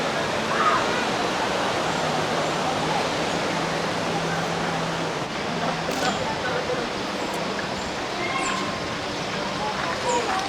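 Taytay Falls in Laguna gives a constant, dense rush of falling water that fills the scene at steady loudness, with faint voices in the background.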